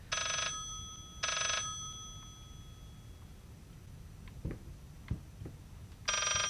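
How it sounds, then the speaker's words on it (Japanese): Old-style telephone bell in the horror video game Layers of Fear rings in three loud bursts, two close together at the start and one at the end, with faint soft thumps in between. "やっぱり電話だな。"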